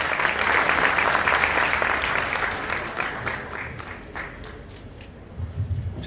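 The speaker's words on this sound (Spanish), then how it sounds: "Aplausos para el doctor Félix Romero Revilla" Crowd applause at a university welcome ceremony for new students at Universidad Ricardo Palma, loud and dense at first, then gradually thinning and fading over about six seconds.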